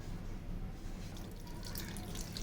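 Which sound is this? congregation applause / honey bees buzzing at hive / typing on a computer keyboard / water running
water running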